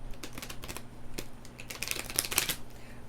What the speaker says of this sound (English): we may as well just give it a shuffle